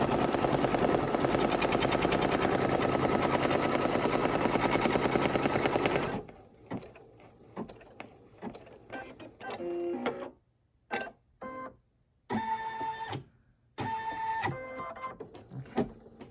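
A Brother NQ3550W embroidery machine stitches appliqué placement lines with a fast, steady needle rattle. After a few seconds the rattle gives way to intermittent mechanical clicks and short whirring bursts with quiet gaps.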